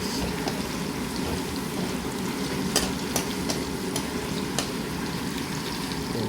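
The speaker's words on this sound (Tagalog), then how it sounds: "Lagyan natin siya ng bawang guys. Haluin natin guys hanggang maluto guys." Garlic stirred and frying in hot cooking oil gives a steady soft sizzle, with a few sharp utensil clicks against the pan and no talk.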